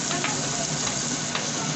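Meat sizzling and frying in Star Margarine in a hot pan, a steady crackling hiss with faint stirring scrapes, close and continuous.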